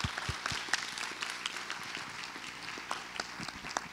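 Audience applause for a singer at a Hurricane Irma benefit concert, a steady wash of many hands clapping at moderate distance, fairly soft, with a few louder individual claps standing out.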